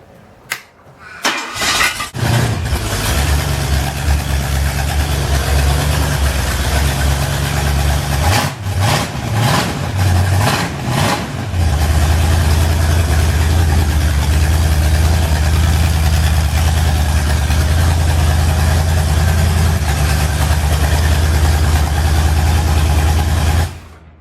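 A Ford 351 V8 mounted on an engine stand cranks in a few uneven bursts, then catches. It settles into a steady, loud idle that continues until the sound cuts off.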